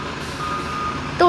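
A truck's backup alarm beeps at a road repair site, a thin steady tone sounding over engine rumble and ambient noise, followed by a brief louder call near the end.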